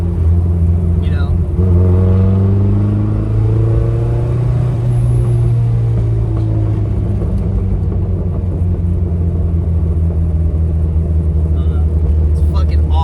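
A 400 hp Mazda Miata driving with the top down, its engine a loud steady low rumble that swells as it accelerates, continuous and close throughout, with wind noise.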